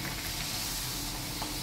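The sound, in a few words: sweet jaggery puris frying in oil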